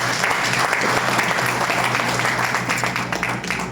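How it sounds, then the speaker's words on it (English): An audience claps loudly and continuously, a dense, even wash of applause filling the room without pause. "Really have to give yourself a big clap."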